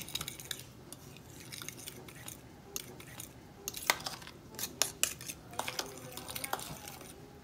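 Strawberry cheesecake ingredients being mixed in a bowl, with soft irregular clinks and scrapes of a utensil against the bowl, fairly faint and close.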